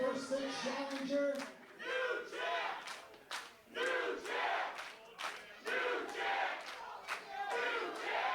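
A crowd at an indie wrestling event cheers and yells in loud waves that rise and fall, with bursts of shouting during a ring introduction.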